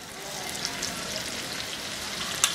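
Okra sizzles over high heat in a pan of oil, an even, close hiss with light crackles and a sharp pop near the end, moderately loud and without speech.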